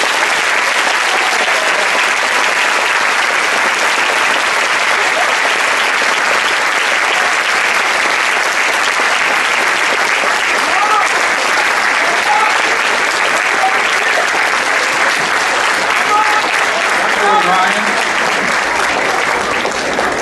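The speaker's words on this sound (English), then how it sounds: "let's give them a great round of applause" A large audience gives veterans a long round of applause at a Veteran's Day program, loud sustained clapping from many hands that stays steady throughout.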